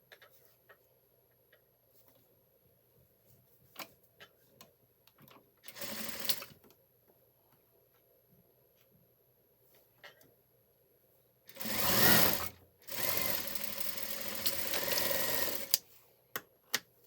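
Sewing machine stitching the folded back piece of a simple shirt, a loud buzzing burst near the start and then two longer runs near the end, separated by quiet pauses with faint handling ticks.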